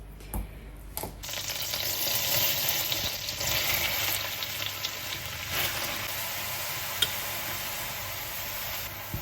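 Chopped shallots and garlic sizzle steadily in a pan, a continuous close frying hiss with faint crackles, no voices.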